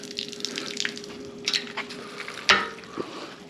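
Water sprays from a portable bucket-fed shower in an uneven, splashy flow with scattered spatters and a faint steady hum underneath.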